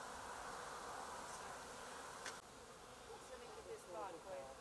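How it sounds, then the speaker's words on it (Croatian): Honeybees swarming outside their hives on an unseasonably warm January day, a dense continuous buzz close by with a few louder individual bees passing near. "Neuobičajeno visoke temperature za ovo doba godine izmamile su pčele van košnica."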